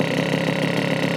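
A Puch Maxi S moped engine idles steadily with its ignition timing just set, giving a constant, dense two-stroke buzz that stays level and fairly loud throughout, with no voices.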